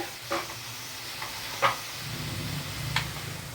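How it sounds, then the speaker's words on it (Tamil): Onions sautéing in a pan on a low flame give a soft, quiet sizzle with a few light stirring knocks, close and alone, no talk. "வெங்காயம் வதங்கிடுச்சு. அடுப்பை சிம்மில் வச்சுட்டு"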